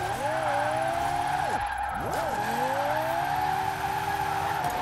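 A Lexus LFA in Forza Horizon 4 screams at high revs, its engine note sweeping up through the gears with brief dips at shifts, while tires squeal and skid under hard acceleration, loud and close throughout.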